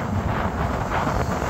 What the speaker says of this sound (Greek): με βρίσκει ο αέρας